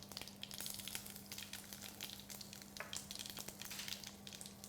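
Curry leaves, ginger paste and garlic paste sauteing in a pan for a South Indian drumstick curry, giving a steady close sizzle with soft crackles and pops throughout, no voices.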